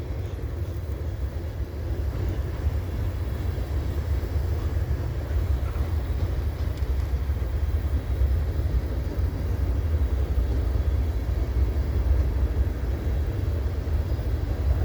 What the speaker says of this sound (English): This train is headed eastbound.